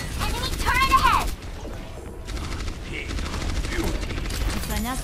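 An enemy turret in the video game Overwatch fires rapid bursts within dense, loud match audio, with chirping ability effects and game voices mixed over the steady gunfire throughout.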